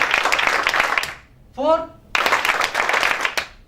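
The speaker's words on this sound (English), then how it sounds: "So let's clap for all of us." Audience in a seminar hall claps together in one short burst of applause, briefly filling a gap between a presenter's spoken counting and talk.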